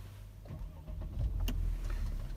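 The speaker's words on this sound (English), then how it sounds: "simply hold my foot down on the brake and press on here, and the car will start up" A 2016 Mercedes-Benz CLS 3.0 fires up by keyless push-button start: a brief starter whir followed by a quiet, low engine hum settling into idle, heard faintly up close.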